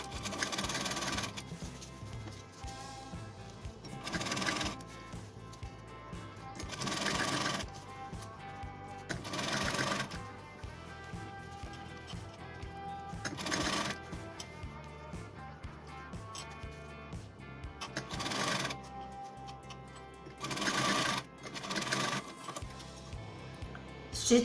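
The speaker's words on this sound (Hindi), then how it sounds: "अब अपने इस गले में एक साइड से स्टार्ट करके दूसरे एंड तक राउंड में स्टिच करेंगे" A sewing machine stitches around the neckline of a child's kurta with a Nehru collar. It runs in repeated short bursts of rapid clatter separated by brief pauses, close and moderately loud, with no speech.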